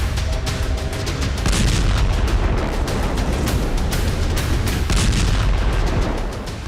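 Continuous loud rumbling blasts and booms from Ukrainian drone strikes in Crimea, dense and overlapping like heavy bombardment, with sharp cracks scattered throughout and no voices.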